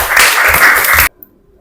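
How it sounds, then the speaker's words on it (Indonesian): Students in a classroom during an Islamic religious education lesson clap together loudly for about a second, a dense burst that stops abruptly into near silence. "Boleh dong tepuk tangannya."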